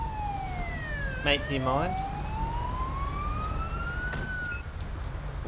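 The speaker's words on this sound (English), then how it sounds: "we're going to get over here and cut our siren off" A police car siren in GTA V sweeps up and down in a slow wail, then a sharp burst of yelping tones cuts in near the start, under steady engine rumble. Someone speaks briefly over it.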